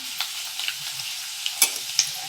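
Potato chips frying in hot oil with a steady high sizzle, broken by a few sharp scraping clicks as a utensil stirs them in the pan; no voices.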